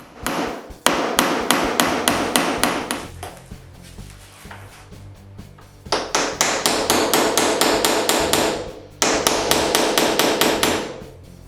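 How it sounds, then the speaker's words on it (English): Rapid, evenly spaced hammer blows drive nails through wooden moldings into a bedroom wall, coming in three long bursts separated by short pauses, close and loud with no talking. "I use a stud finder to locate the studs and nail the moldings to the wall"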